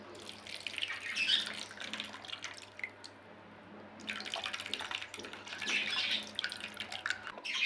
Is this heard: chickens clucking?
no